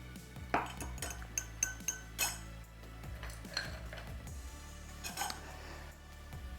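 Ice and glassware clink in a steady run of light taps as a margarita riff with Italicus bergamot liqueur, elderflower and lime is mixed, with a few sharper knocks near the start and middle.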